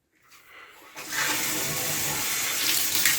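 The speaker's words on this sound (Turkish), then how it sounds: "Şimdi buradan musluğumuzu açıyoruz." Water rushing from an opened radiator tap during cleaning of a heating radiator, starting faint and swelling to a steady loud hissing gush that continues to the end.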